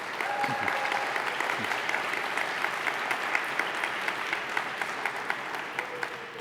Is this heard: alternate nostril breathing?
no